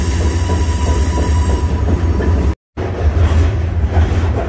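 Boxcars on a railroad rolling through the Great Smoky Mountains make a loud, continuous rumble and rattle of wheels on track, steady throughout apart from a very brief cut.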